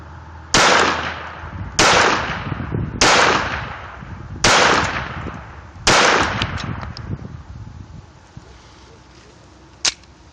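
A Walther P22 .22 pistol fires five shots at an outdoor range, sharp cracks spaced about a second apart, loud and close with brief echoing tails, then a faint click near the end.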